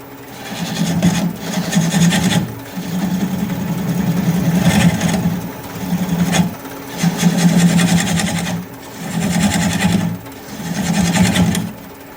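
A wood lathe turns a maple bowl at slow speed, a close, rough scraping and humming that comes in repeated cuts of a second or two separated by brief lulls.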